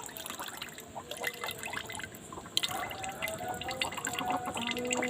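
Water is poured into a cooking pot to boil rice for a festival mutton biryani, a soft, close, steady trickle with light splashing and no talking.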